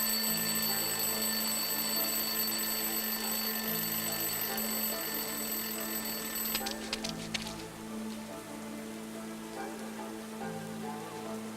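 An alarm clock rings out of a rubbish bin in the video game Lost Horizon, a steady electronic tone running for several seconds before a burst of clattering interrupts it and fainter ringing carries on beneath soft background ambience.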